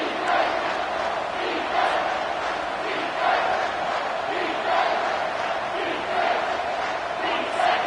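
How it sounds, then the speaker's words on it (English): A football stadium crowd roaring for the home defense on a red-zone third down, a dense sustained rumble of many voices with rhythmic surges, loud and enveloping throughout. "The crowd getting behind this defense"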